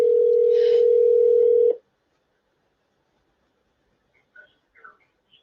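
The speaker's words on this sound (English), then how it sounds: "let's get Liani on the phone here" A steady telephone dial tone hums loudly for under two seconds, then cuts off, followed after a quiet pause by a few faint, short dialing beeps.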